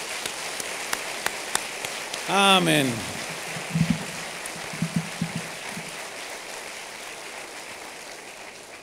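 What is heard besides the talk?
church congregation applauding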